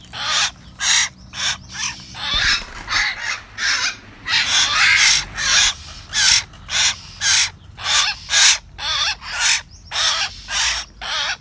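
Young hill myna birds give harsh, raspy calls close by, repeated in a quick, steady series of short squawks with brief gaps, with no talking.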